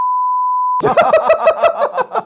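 A steady electronic censor bleep lasts under a second and cuts off abruptly, followed by a burst of laughter.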